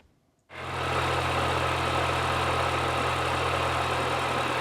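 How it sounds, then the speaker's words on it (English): A 2004 MINI Cooper S engine cranks and catches after half a second of quiet, then settles into a loud, steady idle close by with a low, even hum for the rest of the clip. "we're going to go ahead and get it started up and check the voltage"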